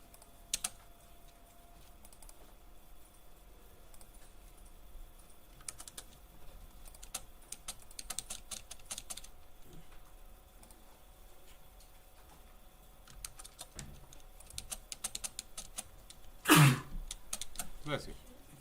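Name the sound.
typing on a computer keyboard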